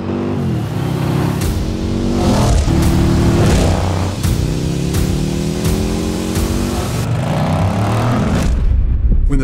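A Harley-Davidson liquid-cooled 108 cubic inch V-twin race engine revs hard and repeatedly, loud and close, with rising pitch sweeps between throttle blips and no talk.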